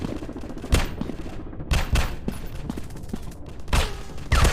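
Rapid bursts of gunfire ring out in a first-person shooter game, several sharp loud shots spaced a second or so apart over a dense crackling background, with no talk.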